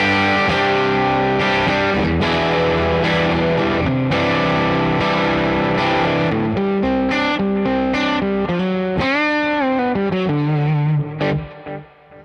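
Distorted electric guitar in a studio, played with a rhythm tone and dense sustained chords and runs, loud and continuous before fading at the end.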